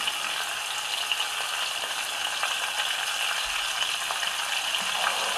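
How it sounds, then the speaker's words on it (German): Steady, loud sizzling and crackling of pork roulades frying in a hot pan, a continuous hiss without pause. "Dann werde ich jetzt die Schweinsrouladen reinlegen. Und von beiden Seiten kräftig anbraten."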